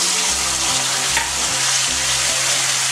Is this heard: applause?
no